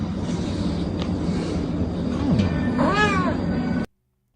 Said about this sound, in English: He does have a pretty deep voice for a cat.